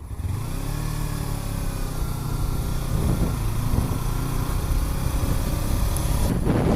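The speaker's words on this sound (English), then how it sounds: "Definitely still getting used to knowing the revs of this bike" A motorcycle engine runs close by, with its revs rising and falling in short bursts over a steady mechanical drone. No voices.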